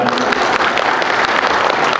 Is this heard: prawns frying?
no